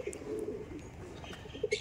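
Tournament-bred pigeons of a new generation coo softly in a steady low murmur, with a couple of louder, closer coos near the end and faint background noise.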